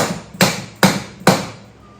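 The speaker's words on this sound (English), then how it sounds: "I found that sometimes when you use your little hammer" Three sharp, evenly spaced metallic taps from a small hammer seating a cylinder barrel during a Harley-Davidson Shovelhead top-end rebuild, each close and ringing briefly before fading, with no talk.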